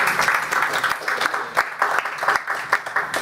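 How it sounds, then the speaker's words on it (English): An audience claps for a presenter at a talk on green jobs and community development, a fairly close, lively burst of applause with uneven surges and individual claps standing out over about three seconds. "Can you give her a round of applause real quick?"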